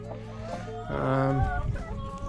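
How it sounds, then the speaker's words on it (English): Several chickens cluck and murmur nearby, a brief burst of overlapping clucks rising over soft background noise. "Well, we have a few chickens here too."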